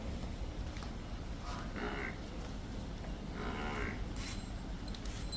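A Nili-Ravi buffalo on a dairy farm gives a couple of low moos a few seconds apart, heard at a moderate distance over steady background noise.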